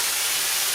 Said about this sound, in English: It's sizzling up.